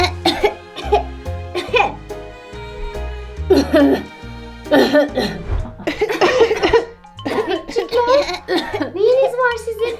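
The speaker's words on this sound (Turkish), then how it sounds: "Hepiniz öksürüyorsunuz." A voices coughing for toy puppies during pretend play, producing a string of repeated, exaggerated coughs in bursts, close up and loud, mixed with childish talk and giggles.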